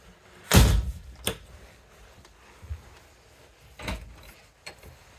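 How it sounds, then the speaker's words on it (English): A shower door in a 2023 Forest River Sunseeker 2860DS RV slides shut with a sharp thud, then a lighter click, and a second bump and rattle follow a few seconds later, all close by with no talking. "The shower door, I just want to make sure that that's slid across to be locked before you start driving."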